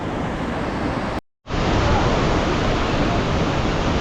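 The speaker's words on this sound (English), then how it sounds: "Vernal Falls, flowing pretty good" Vernal Fall in Yosemite roars as a steady broadband rush of falling water, loud and continuous, broken only by a brief cutout of near silence early on before the torrent resumes unchanged.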